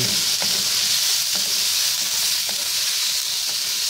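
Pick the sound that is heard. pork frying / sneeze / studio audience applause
pork frying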